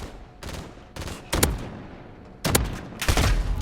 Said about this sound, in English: 2 shots right there. Clean.